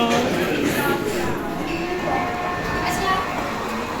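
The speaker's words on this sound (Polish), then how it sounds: "Właśnie nam uciekła ciuchcia." A train pulls away from a station in Prague with a steady rolling rumble and squealing, screeching wheels, fairly loud and close, while people talk faintly in the background.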